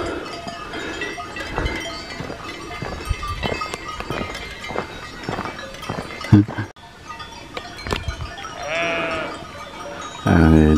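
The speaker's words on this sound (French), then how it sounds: "tous les moutons" Sheep bleat intermittently amid clattering footsteps, rustling and a moving, bumpy background on a mountain hiking trail near La Clusaz, Haute-Savoie, with a louder bleat near the end.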